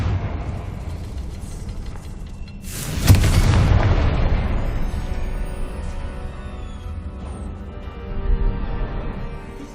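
A Confringo blasting spell explodes in Hogwarts Legacy with a single loud, booming burst that rumbles and fades over several seconds. A smaller pop follows later, over a quiet game background with no talking.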